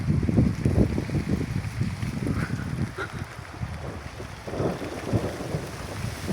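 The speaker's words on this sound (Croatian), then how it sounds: "tamo oluja, kiša i nevreme" Thunderstorm after a Perun's Day celebration: a heavy, continuous low rumble of thunder and steady rain, with wind buffeting the microphone, loud and close throughout with no talking.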